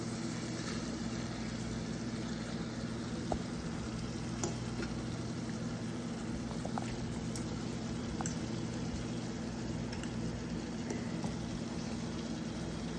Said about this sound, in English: Let's mix up this shrimp right here